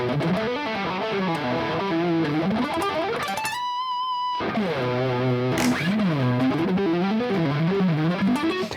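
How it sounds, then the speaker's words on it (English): An electric guitar played through heavily squashed, compressed power amp distortion gives a fluid, sustained tone with sliding, bending lines. A short pause near the middle holds a single clean ringing note before the distorted playing resumes. "I think it's like power amp distortion, probably. So yeah, it's like really squashing the sound."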